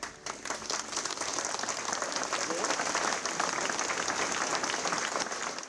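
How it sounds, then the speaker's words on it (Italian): Mourners applaud steadily in an Italian church in Treviso as a coffin is carried out, a dense, continuous clapping that fills the space at even strength, with voices mixed into it. "Un applauso ad accompagnare Manuel fuori dalla chiesa"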